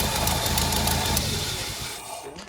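Engine of a 1990 Nissan pickup with an exhaust leak idles in a steady low rumble, then cuts off near the end, leaving a brief quiet before a short thump.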